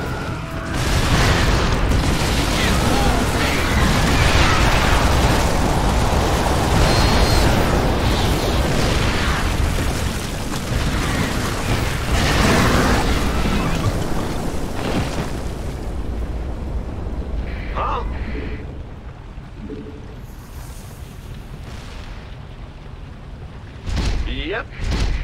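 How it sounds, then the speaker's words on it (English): In StarCraft II, a Nydus worm bursts from the ground with a long, loud seismic rumble and booming eruptions, which fade into quieter mechanical noises and brief game alerts. "Warning. Seismic disturbance detected. Nidus worm inbound."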